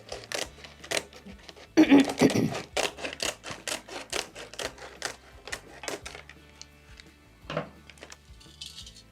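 Crisp, rhythmic snips of scissors working through a güllaç pastry sheet, one burst of heavier rustling early on, then steady cuts continuing nearby without speech.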